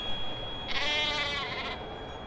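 A goat lets out a single wavering bleat lasting about a second, clear and fairly close over a low steady background hiss.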